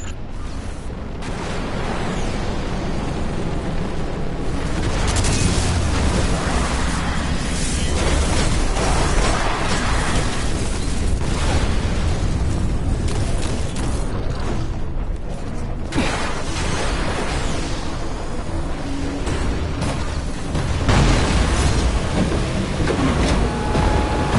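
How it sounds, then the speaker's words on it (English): Fallen artillery explosions in Destiny: Rise of Iron, a dense, continuous rumble of booms, creaking mechanical clatter and battle noise that stays loud for the whole stretch with few quiet gaps. "Fallen artillery inbound."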